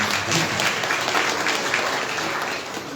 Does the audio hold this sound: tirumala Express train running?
no